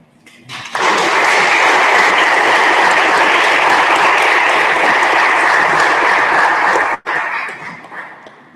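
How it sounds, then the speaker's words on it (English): A large audience at a climate summit panel claps loudly and continuously for several seconds, briefly stops, then resumes before fading out. "One more round of applause for all these incredible panelists."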